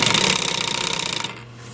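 Sewing machine stitching a car headrest, a fast, loud, even mechanical rattle of needle strokes that runs for about a second before stopping abruptly.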